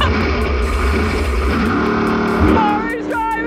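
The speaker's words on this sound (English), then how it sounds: "The engine is so loud!" A loud car engine roars and revs nearby, its pitch rising toward the end, while excited voices call out over it.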